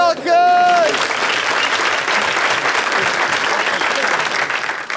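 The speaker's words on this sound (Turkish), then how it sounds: "Bir alkış!" A studio audience at a Turkish talk show breaks into loud, sustained applause just after a brief voice cuts off at the start. The clapping stays close, dense and even throughout.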